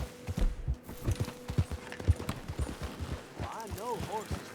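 Horse hooves clip-clop in Red Dead Redemption 2, an uneven galloping rhythm of dull thuds mixed with game ambience, with a brief whinny-like tonal sound near the end.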